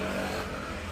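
A car, about a year old and seldom driven, starting with the key and running with a loud steady engine roar that lasts about a second, close by.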